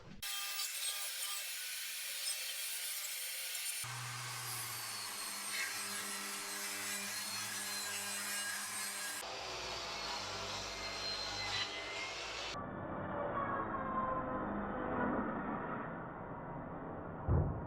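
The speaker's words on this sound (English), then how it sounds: "We're going to cut 4 strips at 2 centimetres each" A power saw rips scaffold board wood into narrow strips, a steady loud whine and rasp of the blade biting through timber, with its pitch and tone shifting between several continuous cuts.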